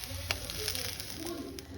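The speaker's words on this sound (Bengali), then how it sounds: "স্টিম ভেজিটেবলসটা এবার শুধু জাস্ট একটু বাটার দিয়ে সতে করে নেবো গোলমরিচ দিয়ে" Steamed vegetables sautéing in butter with black pepper in a pan give a steady, close sizzle and crackle with faint stirring, without any speech.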